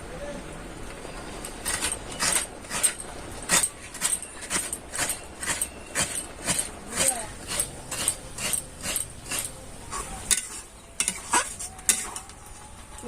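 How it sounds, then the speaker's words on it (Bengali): Fresh coconut is scraped for a sweet mung dal puli pitha filling, making a steady run of rhythmic rasping strokes about twice a second, close and moderately loud, with a brief pause near the end. "পুরটা, ভেতরের পুরটা করার জন্য নারকেলটা আমি কুড়িয়ে নিচ্ছি।"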